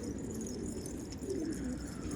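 Pigeons, including a purple-coloured one, cooing after landing, soft low throaty coos close by but faint against a steady background hum.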